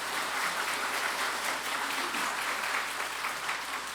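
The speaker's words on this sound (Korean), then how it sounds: "우리 박수로 한번 이렇게 해서." Church congregation at a Sunday communion service applauding together, a steady, moderately faint wash of clapping that holds evenly throughout with no speech over it.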